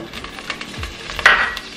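Butter sizzling as it melts in a hot pan for Indian butter chicken, a soft steady crackle with light scraping and a sharper utensil clink near the end, no one talking.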